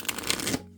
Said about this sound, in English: Let me side shuffle and see if that works